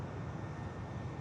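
An EasyJet airliner spooling up its engines in an engine run-up bay at Manchester Airport, a steady, dense roar with no breaks, heard from a distance.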